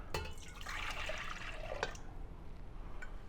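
Water and milk are poured into the bowl of a stand mixer fitted with a dough hook, a brief splashing pour with faint drips, followed by low room noise.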